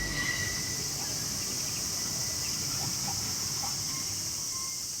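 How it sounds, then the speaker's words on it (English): Cicadas in Japan drone in a dense, continuous high-pitched buzz that fills the air evenly, with no talking and only faint background sounds. "Because, man, those cicadas are everywhere."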